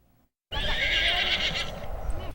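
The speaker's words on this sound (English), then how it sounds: "Gerard Lampow introduces us to a couple horse riders who may one day make the medal round at major equestrian events." A horse ridden by a young equestrian rider neighs loudly and close, one long whinny lasting nearly two seconds, with hooves clip-clopping faintly underneath after a brief quiet start.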